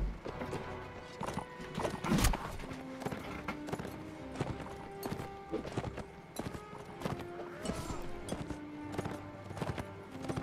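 Horse hooves clip-clopping in Mount & Blade: Warband, a fast irregular run of hoof strikes with clattering battle sounds mixed in, continuous and moderately close.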